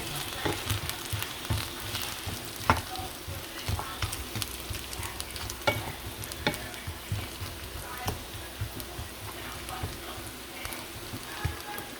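Chicken and garlic frying in a pan, a continuous crackling sizzle broken by frequent clicks and scrapes of stirring, moderately close and without speech.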